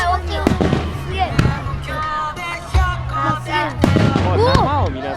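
Fireworks bursting at the 2017 Takasago City fireworks festival in Hyogo, with several sharp booms and crackles spread across a few seconds, mixed with crowd voices and people talking nearby.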